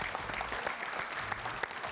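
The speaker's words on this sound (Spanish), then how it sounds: "Juncal, un aplauso para ella" An audience applauds a guest named Juncal in a TV studio, a steady, dense patter of clapping that runs for two seconds without speech.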